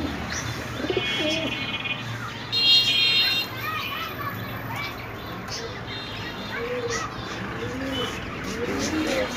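Pigeons coo and chirp steadily at a roadside bird shop, close and fairly loud, with a brief electronic buzz partway through and traffic-like background noise throughout.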